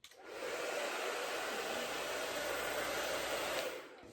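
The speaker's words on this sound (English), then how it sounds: "I'm gonna use my dryer to sort of cup this up to create that bob look that I like" A handheld hair dryer blows on curly hair styled into a short bob, a steady close airy roar that starts abruptly, holds for several seconds, then cuts off.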